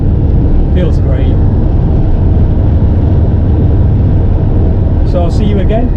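A Land Rover Defender TD5, one that has failed its MOT, drives along with a loud, steady low engine and road drone throughout. A voice speaks briefly twice over the rumble.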